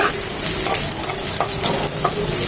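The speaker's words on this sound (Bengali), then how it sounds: "করলাটা একদম কড়া করে ভেজে নিচ্ছি" Bitter gourd frying hard in hot oil in a pan, a steady close sizzle filling the whole stretch with faint scrapes of stirring and no voices.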